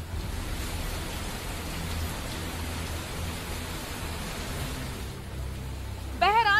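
Heavy monsoon rain falling steadily in Mumbai's coastal area, a dense continuous hiss that holds level throughout, with a brief sharp warbling electronic tone breaking in at the very end.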